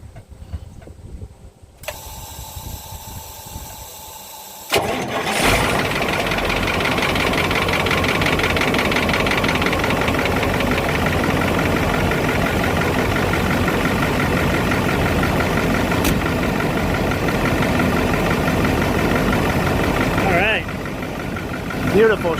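Caterpillar 3208T 10.4L V8 turbo diesel in a Ford F8000 truck cranks and fires after a few seconds of quieter noise, then settles into a loud, steady idle that rumbles on for over fifteen seconds with brief talk over it.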